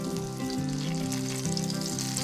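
An eggplant omelette with onions and tomatoes sizzles in a frying pan, a steady crackle running beneath tonal background music throughout.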